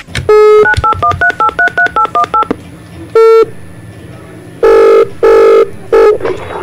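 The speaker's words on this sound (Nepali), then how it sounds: "okay let's dial the number" A phone number being dialed: a loud, quick run of about a dozen DTMF keypad tones in a steady rhythm, then single beeps and longer tones after a short pause, with no talk.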